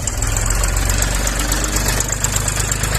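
Mini tractor with a front loader running steadily, its engine producing a continuous low, knocking drone at close range with no talking.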